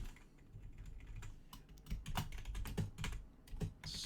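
Computer keyboard typing close by, a quiet, irregular run of sharp key clicks that thickens into a faster burst in the second half, with no speech.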